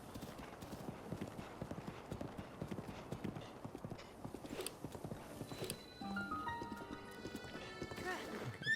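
Horse hooves clip-clop in a rapid, steady rhythm during a ride in the video game Breath of the Wild, close and fairly loud, with game music tones entering near the end.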